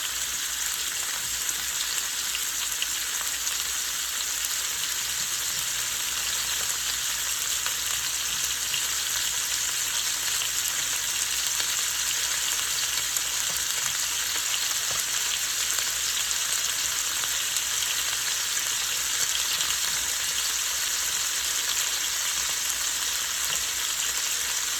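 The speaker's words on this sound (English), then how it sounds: "I'm going to add a little meat, and what I want to do is I want to sear it" Beef searing in a hot pan for a beef and mushroom stew, a steady, even sizzle that continues unbroken and fairly quiet, with no talking over it.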